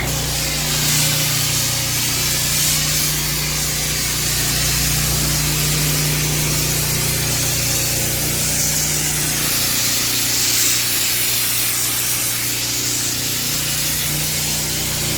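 A pressure washer sprays down a paver driveway in a steady, loud, continuous hiss and rush of water that holds without pause throughout.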